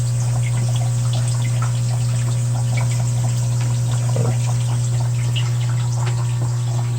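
Water drains from a shrimp tank during a water change, a soft continuous trickle over a steady low pump hum, faint and even throughout.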